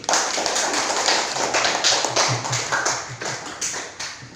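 Schoolchildren in a classroom clap for a classmate in a quick, patterned rhythm of light claps and taps, moderately loud and fading toward the end.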